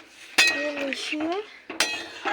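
A metal utensil stirs a pot of bati chorchori, Bengali mixed vegetables lightly fried and then topped with water, giving two sharp clinks against the pot and soft scraping, with a faint voice in the background.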